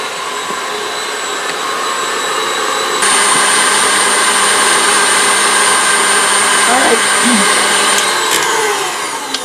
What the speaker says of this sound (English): you want to use a nice mixer or a blender for this